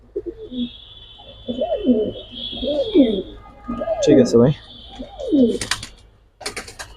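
Silver military Jabra Pankhi pigeons coo in deep, throaty rolling calls, several in succession and close by, while someone talks briefly and a high whine hangs in the background.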